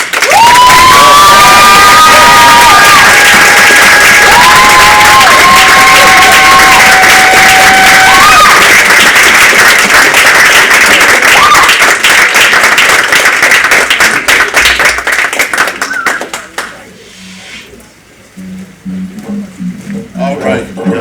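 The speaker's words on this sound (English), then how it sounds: "Another round of applause." A high school poetry slam crowd erupts in loud cheering, whoops and clapping, with sustained high shouted voices early on, then the noise tapers off and drops to quieter murmuring near the end.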